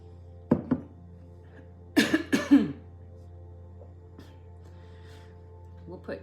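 A person coughing indoors, a short double cough followed by a longer burst of three harsh coughs, close and fairly loud against a quiet room with a low steady hum.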